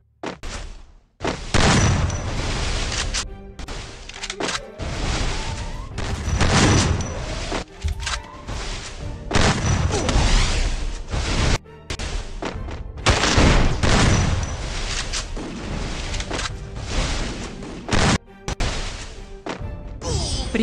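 Rapid bursts of loud gunfire and explosions pound almost continuously, with heavy booms and thuds in a dense, chaotic game battle.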